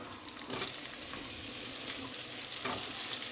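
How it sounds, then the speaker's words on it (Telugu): Okra pieces and tomato frying in a pan give a continuous, fairly loud sizzle, with a couple of brief surges as more food or stirring stirs up the oil. "తొందర తొందర వేస్తున్నా ఒక బెండకాయ టమాటా వేద్దాం బెండకాయ ముక్కలు"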